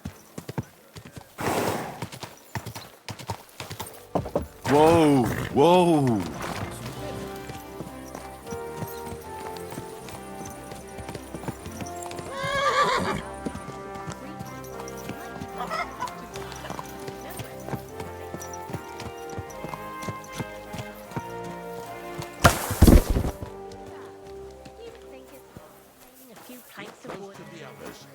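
In the video game Kingdom Come: Deliverance II, horse hooves clip-clop steadily with a few loud whinnies, while someone speaks calmly over the trotting and background music.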